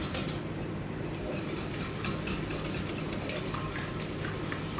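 Cake batter for a vanilla moelleux being mixed in a bowl, a steady, close, continuous scraping and stirring texture that runs without pause and with no talk.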